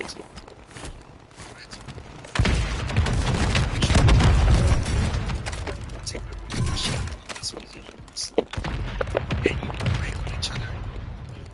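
Gunfire in Call of Duty Warzone: a sustained rumble of shots and booms with mechanical clatter and footsteps, heavy and continuous, with game voices over the top.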